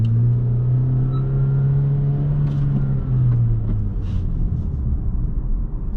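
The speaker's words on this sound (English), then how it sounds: "If you give it some gas with sport mode off, it sounds perfectly normal." A 2020 Honda Civic Si with sport mode off gives a low steady engine drone while driving, its pitch holding then dipping slightly as the car accelerates, with road rumble underneath and no talk.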